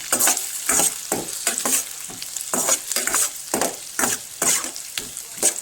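Onion and capsicum for egg chilli being stirred in a hot pan, loud close sizzling broken by repeated rhythmic scrapes of the spoon, about two strokes a second, with no talking.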